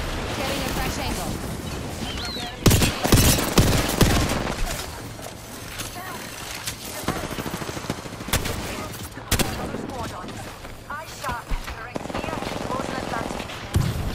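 Rapid gunfire bursts in the video game Apex Legends, several loud volleys crackling over a busy in-game mix, with a voice talking throughout.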